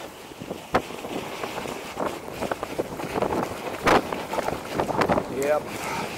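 Cold wind gusts against the microphone during a snowy e-mountain-bike ride on the Anninger, a rough, uneven roar with sharp buffeting bursts, while a rider talks over it at times.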